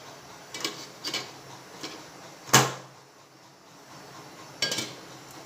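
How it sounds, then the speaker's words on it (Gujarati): A plate of moong dal muthiya is set into a preheated steamer. Scattered light clinks and taps lead to one sharp metallic clank, then a few more soft knocks against a quiet background. "હવે આ રીતે આપણે પ્લેટ અંદર મૂકી દઈશું."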